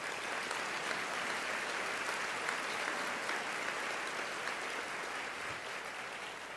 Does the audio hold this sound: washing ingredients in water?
no